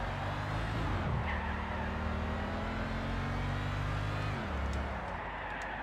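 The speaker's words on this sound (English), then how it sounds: "The amount that that car goes down in revs whenever you change gear from second to third" A racing car engine in a driving game revs high, drops sharply in pitch on each upshift, then climbs again, a steady close mechanical drone with two clear gear-change dips.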